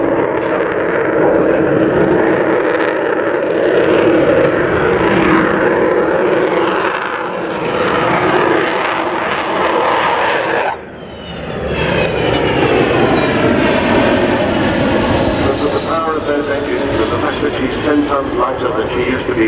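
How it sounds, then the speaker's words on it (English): The Avro Vulcan XH558 bomber makes a flypast with a loud, sustained jet-engine roar. It dips briefly, then returns with a rising, howling whine, and voices are faintly audible underneath. "You can't have the engines at full jack for very long, you'll exceed all the speed limits."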